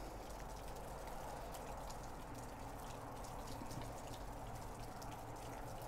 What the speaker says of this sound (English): It is raining out here